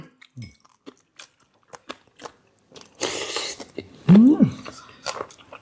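Crunchy dried salted jellyfish head being bitten and chewed, giving brittle crackling crunches up close, with a louder burst of crunching toward the end after a few faint mouth sounds.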